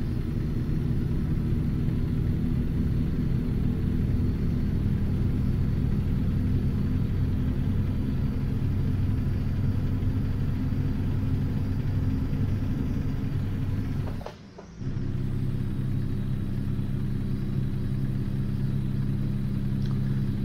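Steady, loud truck engine drone in American Truck Simulator during career mode in Montana, a continuous low rumble with a brief sudden dropout near the end before the engine hum resumes.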